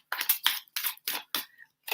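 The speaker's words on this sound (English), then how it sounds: "So let me shuffle a card while you do that." Oracle cards being shuffled, a string of quick papery riffles and snaps in short separate bursts, close and fairly quiet with no talking.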